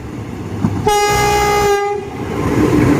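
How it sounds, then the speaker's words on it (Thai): A loud, sustained express train horn blast lasting about a second, sounding over steady rumbling rail noise that continues after it fades. "มีเสียงวีดทักทายด้วยนะครับ"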